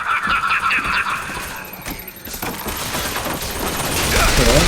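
Turret gunfire during a firefight in the shooter Bioshock Infinite, with bursts of rapid shots and impacts mixed with other combat noise, building louder toward the end.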